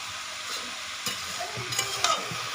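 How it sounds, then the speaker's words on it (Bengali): Leafy greens tossed into a pan of five kinds of frying vegetables and stirred: a soft, continuous sizzle with scraping and rustling stirs, close and fairly quiet. "এবার এর মধ্যে আমি বাকি শাকগুলো দিয়ে দেবো।"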